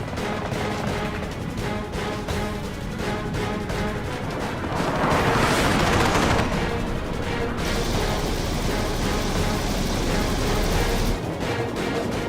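Loud, continuous burst of .50 caliber machine gun fire from a jet fighter during an air battle with a MiG, dense and sustained for many seconds with heavy booming rumble and no speech.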